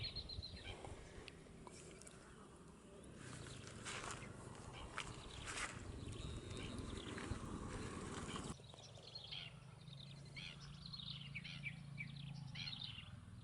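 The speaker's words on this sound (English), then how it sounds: "Their chirping sounds can still be heard today" Wild lesser whistling ducks and other birds chirp and call outdoors in scattered, fairly faint bursts over a steady natural background, with some rustling or footstep-like movement.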